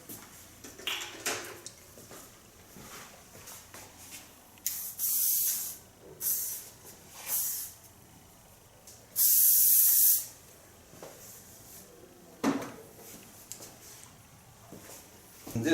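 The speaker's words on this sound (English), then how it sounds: "Now the only thing I need is a little bit hairspray." Hairspray sprays onto hair during a punk makeover in several bursts, short hissing puffs and one longer, louder blast, close to the microphone with quiet gaps between them.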